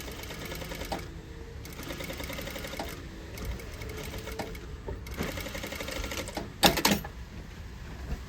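A sewing machine runs an under stitch along an outer convex curve, its motor humming in steady bursts of rapid needle chatter that stop and restart several times, close and fairly loud, with a sharp clatter near the end.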